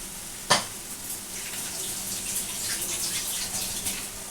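Tap water runs steadily into a bowl of prawns being washed, a close hissing splash that follows a sharp knock at the start, with light sloshing as the prawns are rinsed.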